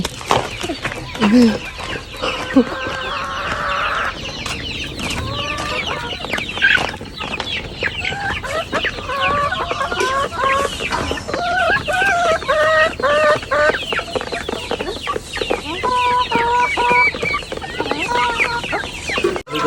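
Chickens cluck loudly and continuously at close range, with repeated calls throughout and a person talking now and then among them.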